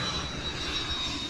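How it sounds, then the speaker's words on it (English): Loud, steady roar of an Air France Airbus A330's jet engines landing low over Maho Beach, a continuous broad rumble with a faint high whine on top. "The engines echo across the bay."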